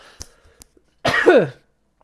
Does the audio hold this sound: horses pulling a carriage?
no